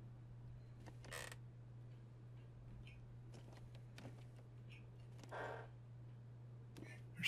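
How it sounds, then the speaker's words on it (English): Faint, scattered wooden floor creaks from a game set in a cold, snowbound wilderness survival world, a few short groans and ticks spread over a steady low hum, with no talking. "Hear the floors creaking?"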